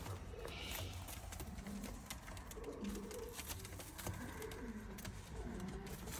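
Pigeons cooing in soft, low repeated calls, with a busy background of rustling and clatter.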